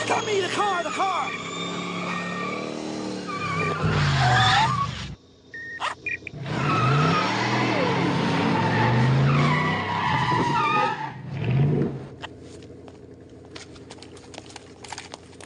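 A car skids with a loud, sustained tire squeal in bursts, alongside excited voices and other busy sound.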